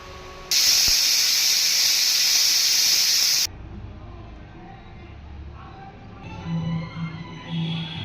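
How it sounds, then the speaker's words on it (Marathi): A pressure cooker on a low flame, cooking a soybean curry, lets out a loud, sustained hiss of escaping steam for about three seconds, then cuts off to quiet kitchen background with faint clatter. "मंद आचेवरती 5 ते 6 शिट्ट्या करून घेऊया।"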